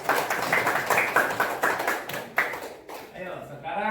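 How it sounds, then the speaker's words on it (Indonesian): Classroom clapping for two students, a group of children clapping in quick rhythmic bursts close by, with a teacher's voice speaking over and after the claps. "Tepuk tangan untuk Najwa dan Cynthia."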